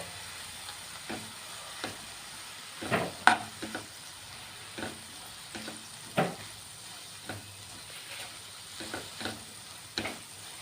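Roasted gram powder is stirred into snake gourd poriyal frying in a pan, giving a spoon scrape roughly every second or two over a soft, steady sizzle, with no talking.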